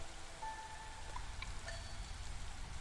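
Steady drizzle falls in the video game Against the Storm, a soft, even hiss of light rain with faint scattered drop ticks and a few small tonal chimes, quiet and uninterrupted throughout.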